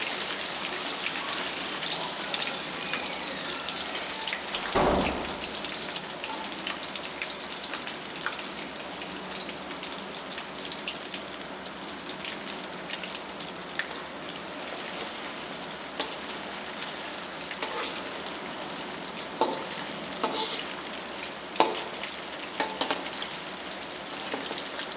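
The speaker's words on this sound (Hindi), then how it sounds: "साइड तब्दील कर लेनी है इनकी, दोनों साइडों से अच्छे तरीके से फ्राई कर लेना है।" Pieces of boti meat sizzle steadily in a pan as a Chatkara Boti is fried and turned, a continuous crackling hiss with a louder clatter near five seconds and a few sharp pops later, with no talking.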